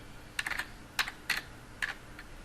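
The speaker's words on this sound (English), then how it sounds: "We can then type in the address for Google's homepage" Keystrokes on a computer keyboard as a web address is typed, coming in short bursts of clicky taps with brief pauses between, fairly quiet and close with no talking.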